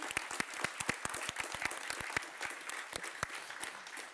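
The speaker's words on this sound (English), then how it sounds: "Give yourselves a round of applause." An audience at an evening talk in Stockholm claps in sustained applause, dense overlapping hand claps with sharp individual slaps standing out, fairly close and steady throughout, with no speech.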